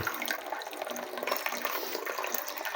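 Hot water poured into a cup for a morning drink, a close, bubbling splashy pour running continuously and fairly softly.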